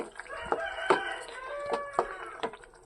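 Backyard chickens cluck in a series of short, sharp calls close by, with drawn-out tonal crowing from a rooster mixed in, and no talking over them.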